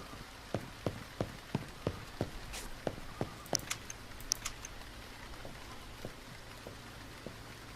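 Drops tap and patter irregularly on a hard surface in a video game, indoor rain, about a dozen distinct clicks over quiet hiss, faint and close, with no voices.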